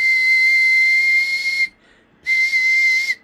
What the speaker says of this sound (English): And give it a whistle.